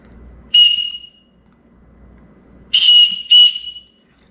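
A survival whistle from a Mossy Oak Overwatch knife kit with a ferro rod gives three loud shrill blasts outdoors: one short burst, a pause, then two more blasts close together.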